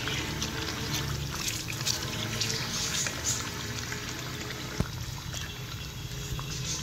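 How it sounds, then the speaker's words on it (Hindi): Chicken goes into a pot of fried masala for Hyderabadi dum biryani, giving a steady wet sizzle and bubbling with a faint clatter, continuous and close with no talking. "अब हम इसके अंदर चिकन ऐड कर देंगे।"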